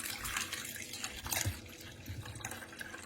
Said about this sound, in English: So we're going to gently pour out the vinegar and leaving the egg in.